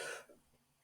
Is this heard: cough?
yes